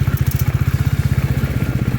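A motorcycle engine thumps in a fast, even, loud rhythm while riding through the rain, with wind and road noise over it.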